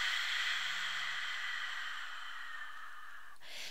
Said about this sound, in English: breathing deeply in through the nose, and expanding the chest, the belly like a balloon, and then exhaling out through an opened mouth